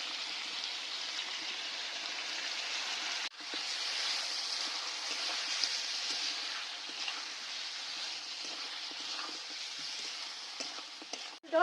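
Garlic, ginger and green chili paste hisses steadily as it hits fried chicken in a pan for dhaba-style chicken masala, a bright continuous sizzle with a brief dip partway through and a clatter at the end.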